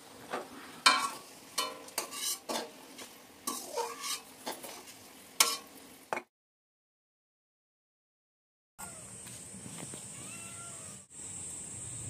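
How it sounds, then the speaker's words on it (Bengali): Potatoes fry in a pan while a utensil stirs and scrapes them in uneven bursts over a soft sizzle, followed by a pause and then a steadier sizzling hiss. "এই যে আমি আলু ভাজা করছি, আর আলু ভাজাটা হয়েও এসছে।"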